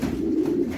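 Pigeon cooing in a steady low hum close by, a single continuous coo from a racing pigeon being prepared for a race, with no voices.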